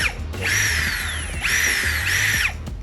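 A Toho cordless drill's chuck being tightened, producing a close, loud whirring whine in two sustained bursts with a brief break between them, with no voices.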